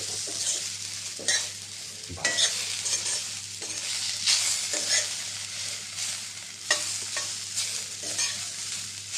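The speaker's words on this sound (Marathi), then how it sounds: "आपल्याला त्याचे व्यवस्थित फ्राय करून घ्यायचे" Stuffed okra frying in a pan with little oil gives a continuous sizzle, broken by repeated scraping stirs and soft clinks of the utensil against the pan.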